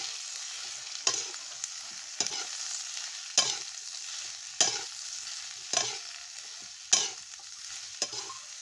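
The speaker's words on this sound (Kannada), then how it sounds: "ಎಣ್ಣೆ ಒಳಗೆ ಬದ್ನಿಕಾಯಿ ಚೆಂದಾಗಿ ಫ್ರೈ ಮಾಡ್ಕೊತೀನಿ ರೀ." Brinjal (eggplant) fries in oil with a steady sizzle, broken by about eight sharp stirring scrapes and clatters at regular intervals.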